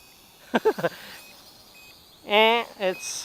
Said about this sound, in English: So this beep is that it's returning home, I think.